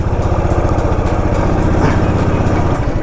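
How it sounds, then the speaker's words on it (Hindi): A Himalayan 411 motorcycle engine runs with a loud, steady low thrum close by as the bike is moved forward, without talking. "यार बाइक आगे लगाते हैं, आगे जगह है"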